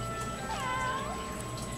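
A pet cat meows once in a drawn-out, rising and falling call, close and clear over a steady background hum, with no talk during the sound.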